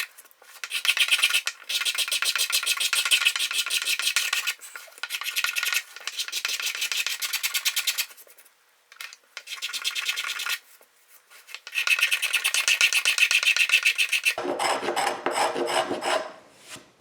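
Rasping strokes of a file on the wooden body of an 1800s violin, smoothing out deep scratches: close, steady back-and-forth bursts separated by brief pauses, ending in a lower, rougher rubbing passage, with no talk.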